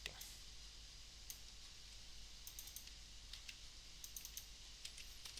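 Code being typed on a computer keyboard, quiet irregular clicking keystrokes in short bursts over a faint background hiss, close and soft.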